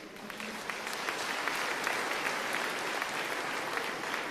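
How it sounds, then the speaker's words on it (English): Sustained applause from an audience at a matric results ceremony, a steady dense wash of clapping that holds evenly loud throughout with no talk. "And I want you to give yourself a round of applause."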